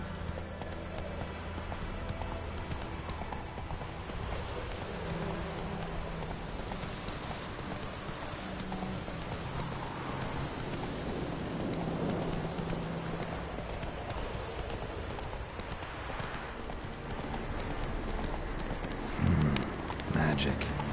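Roach the horse gallops in The Witcher: Wild Hunt, with rapid rhythmic hoofbeats pounding steadily over a wash of rain-like ambience, moderately loud throughout.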